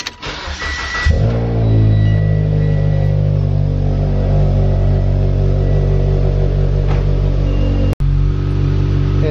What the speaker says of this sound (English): I'm gonna start it up, let it warm up a little bit